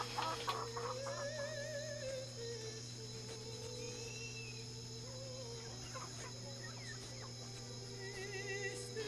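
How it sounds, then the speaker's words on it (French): Chickens cluck and squawk in a scattered, quarrelsome way, faint and somewhat distant over a steady background hum. "les poulets se chamaillent."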